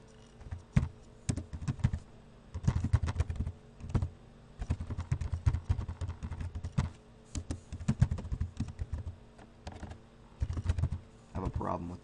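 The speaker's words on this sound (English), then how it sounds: "Go to CMD, and go ahead and type this in." Typing on a computer keyboard while entering commands, bursts of quick close key clicks with short pauses between, alongside muffled speech.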